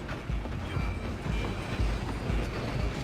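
Train running in Red Dead Redemption 2, a steady rumbling roll with rhythmic clacking of wheels over rail joints and faint mechanical rattles, fairly close and continuous without talk.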